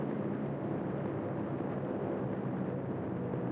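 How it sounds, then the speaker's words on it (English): A recon plane drones overhead in the Company of Heroes 3 video game, a steady, fairly faint engine hum holding evenly throughout without speech. "Got the US Forces Air Support Center recon plane detecting all these Wehrmacht stealth units."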